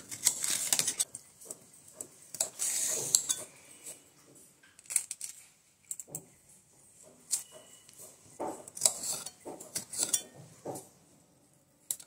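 Knife chopping capsicum and onion on a board in a home kitchen, irregular close taps and scrapes in bursts with clinks of utensils, no talking.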